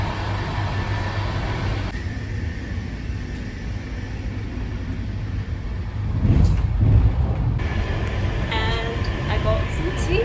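Steady low rumble and rolling noise inside a moving passenger train on a winter journey from Britain to Ukraine, continuous throughout with a louder surge partway, under a nearby voice talking.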